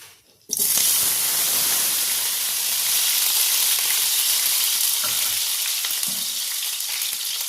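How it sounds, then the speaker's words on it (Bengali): Potato pieces drop into hot oil in a pan, bursting into a loud, steady crackling sizzle that carries on continuously with faint stirring clinks, close by and without talking. "তাই তেলটা আমার গরম হয়ে গেছে। প্রথমে আমি কিন্তু আলুটাকে দিয়ে নেব।"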